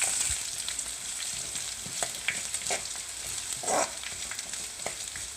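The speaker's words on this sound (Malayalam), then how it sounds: "ഉള്ളി ഒന്ന് ചുവന്ന് വരാൻ ഇളക്കി കൊടുക്കാം." Sliced shallots frying with curry leaves in a pan for pineapple pachadi, a soft steady sizzle broken by several quick stirring scrapes and clicks.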